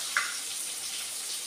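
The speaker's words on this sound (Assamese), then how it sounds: "এয়া মাছ ফ্ৰাই কৰি আছোঁ।" Fish fry in a pan with a soft, even sizzle held at moderate volume throughout, with one small pop near the start.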